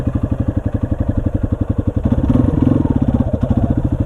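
A Yamaha XT250 motorcycle's single-cylinder engine idles and putters close by, a steady rhythmic thumping pulse that rises slightly in the middle before settling back.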